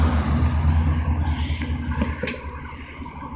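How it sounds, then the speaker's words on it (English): Steady low traffic rumble of cars passing nearby, with engine drone and faint road noise continuing throughout, no voices. "you might hear cars."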